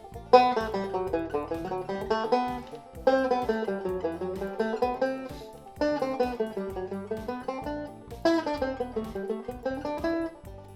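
Guitar notes picked one at a time on a single string, climbing up the neck and back down in a repeating run of four phrases, clear and close with no talk.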